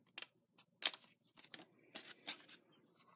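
Scissors snip through paper while finishing a cut line on a handmade floral pouch, giving several short, crisp cutting bursts with pauses between them.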